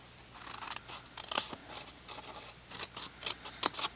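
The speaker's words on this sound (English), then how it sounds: "you're going to take your snips" Metal snips cutting paper for a box card, a quiet series of small, irregular snipping clicks and crisp crunches close to the microphone, with no talk.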